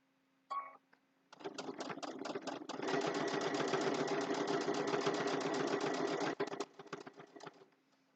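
A sewing machine stitches a quilted Christmas table runner: a few short bursts, then a long run of rapid, even needle clatter that stops abruptly and is followed by a few brief taps, close and fairly quiet.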